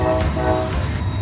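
A Norfolk Southern freight trash train passes close by on the NS Pittsburgh Line, its horn sounding a loud steady chord over the continuous heavy rumble of the railcars.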